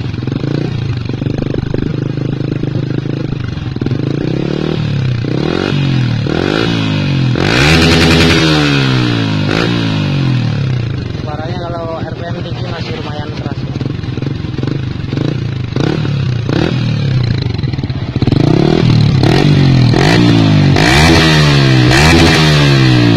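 A Yamaha R15 with a Proliner TR1 Long exhaust and its dB killer fitted revs hard and repeatedly, rising and falling engine sweeps with a steady idle between, loud and close, with no talk.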